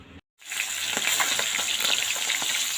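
Fishery fish pieces frying in hot oil in a pan, a steady close sizzle with scattered crackles and pops starting after a brief silent gap, alone without talk.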